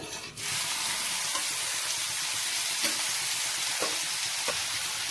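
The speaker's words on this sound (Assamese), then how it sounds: "ইয়াতে মই বাকী কেইটা মাছ পেলাই দিম এইখিনি তেলতে" Pieces of chana fish are dropped into hot cooking oil, setting off a sudden loud sizzle that settles into a steady frying hiss punctuated by a few sharp crackles.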